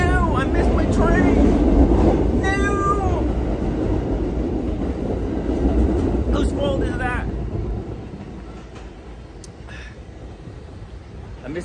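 A train rumbles past at a station with clattering, squealing wheels, loud at first and then fading, while people talk nearby.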